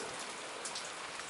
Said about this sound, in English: But it is raining tonight